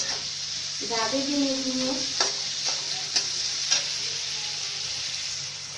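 Masala fries in oil for egg curry under a steady hiss, with spoon scrapes and clinks as it is stirred; someone speaks briefly over it.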